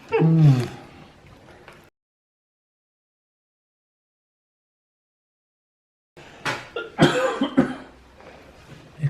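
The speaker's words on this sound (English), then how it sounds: "glue's making me cough." A harsh, throaty cough up close, caused by glue fumes while making a Halloween hair comb, then several seconds of silence before a run of sharp clattering sounds.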